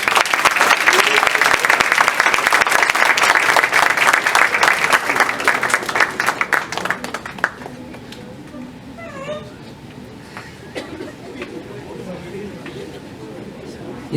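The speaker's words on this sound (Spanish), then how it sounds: "Nuevamente les brindamos un fuerte aplauso." Loud, dense applause from a large crowd fills the first half, then fades into quieter room noise with scattered sounds.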